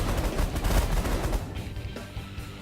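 Ships exchanging fire in the space strategy game The Last Federation, a dense burst of loud overlapping shots and booms that thins out after about a second and a half, with no talking.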